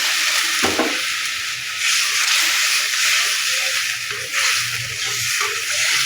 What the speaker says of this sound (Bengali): এবার পরিমাণ মতন পানি দিয়ে দেবো